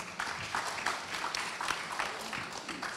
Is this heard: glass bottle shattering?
no